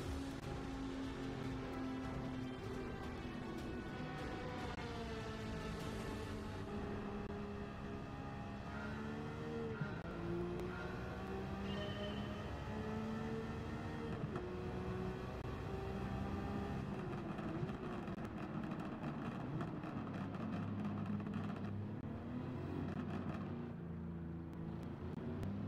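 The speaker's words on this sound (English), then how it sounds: "Oh man, that car sounds crazy. That V8." A V8 race car engine in Gran Turismo 7 drones loudly and continuously, rising and falling in pitch as it revs through gear changes, with faint tire noise and no talking.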